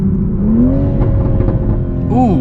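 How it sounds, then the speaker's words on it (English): Engine of a 2021 Toyota Supra droning steadily on a canyon drive with a few sharp exhaust pops breaking through, up close and loud, while a voice gives a brief impressed exclamation. "that popple right there, that was good"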